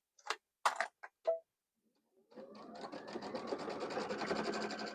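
A new sewing machine stitches through a cactus quilt, starting after a few sharp clicks and building into a steady rapid mechanical whirring, close and moderately loud, alone.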